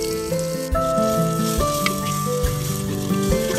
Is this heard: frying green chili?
yes